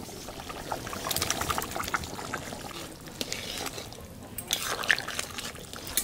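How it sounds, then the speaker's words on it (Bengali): Hot water is poured into a pot of duck meat curry, a continuous splashing stream that swells and fades in bursts over several seconds, with faint voices in the background. "এখানে গরম জল দিয়ে দেবো।"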